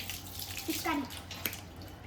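Water is poured over a dog during its bath, a short splashing rush with a voice heard briefly beneath it.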